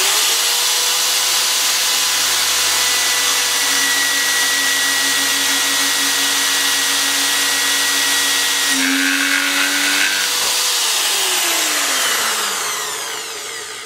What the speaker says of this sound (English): that's the first three holes I've ever drilled on this